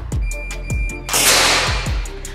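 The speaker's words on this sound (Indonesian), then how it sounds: "Ini tembakan yang keempat." Four sharp, loud pneumatic cracks from a Jawara Mauser OD32 PCP air rifle during a test session, spaced irregularly, with a longer burst of hissing noise after the second shot.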